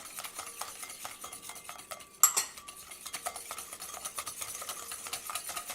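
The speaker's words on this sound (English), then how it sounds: "Next I'm going to whisk in my vegetable oil." Whisk tapping and scraping quickly against a bowl while vegetable oil is beaten into skillet cornbread batter, a close, steady clatter with one sharper knock partway through.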